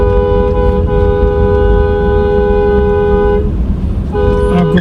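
Truck horns blare on an expressway in long, sustained blasts, loud and close, cutting out briefly near the end before resuming, over steady road traffic noise.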